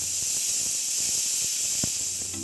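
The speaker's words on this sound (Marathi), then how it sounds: "मी कुकरला झाकण लावून दिलेलं आहे आता आपण याला तीन ते चार सिट्ट्या काढून घ्यायचे आहे" Pressure cooker with dal khichdi inside, lid locked, hissing a steady broad stream of steam close up, loud and continuous with faint small clicks beneath.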